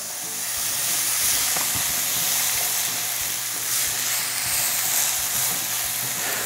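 Chopped onion sautés in a hot pan with a loud, steady sizzle and hiss, joined by occasional scraping stirs, for a Filipino dish of string beans and squash in coconut milk.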